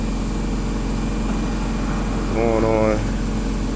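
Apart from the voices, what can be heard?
car engine idling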